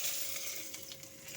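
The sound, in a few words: slit green chilies and black cumin tempering in hot oil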